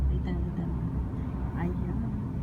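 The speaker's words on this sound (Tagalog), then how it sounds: "madami na talagang mga sasakyan" Road traffic on a street in Saudi Arabia, a steady low rumble of engines and tyres with a car passing midway, heard from inside a vehicle at moderate volume.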